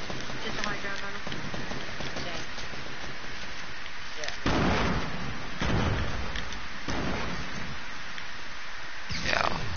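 Rapid gunfire bursts and shots in a first-person shooter match crackle throughout amid dense game noise and explosions, with players talking over the action.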